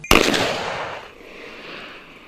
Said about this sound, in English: gunshots were heard in the air and people screaming